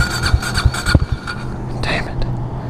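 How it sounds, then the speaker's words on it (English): A KTM Duke 390 motorcycle strains to crank without starting, giving a few labored thumps and a whirring starter under wind noise, with someone talking over it. "It's having so much trouble cranking."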